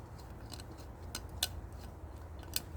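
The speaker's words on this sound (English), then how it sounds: "I'm going to grab my scissors and start cutting a line on the bottom of the tin can." Scissors cut into the bottom of a tin can for a survival stove, giving several sharp, separate metallic snips over a quiet, low background hum.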